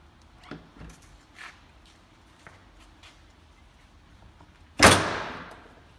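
A Can-Am torque locker axle slams into place: a few quiet clicks and taps of handling lead to one loud, sharp metallic impact that rings and fades out.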